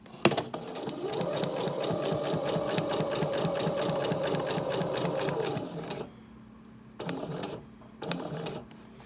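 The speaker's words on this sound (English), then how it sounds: "now I'm just gonna sew straight across, following this line, and I'm gonna go a couple stitches over" A sewing machine stitching straight across fabric for a paper-piecing quilt block runs at a steady loud rapid hum for about six seconds, then stops and makes two short bursts of a few stitches.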